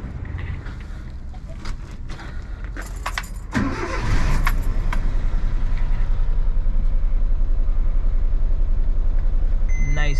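A Suzuki Jimny being started: keys and clicks, then the engine cranks and catches, settling into a steady close idle rumble that runs on to the end, with a short beep near the finish.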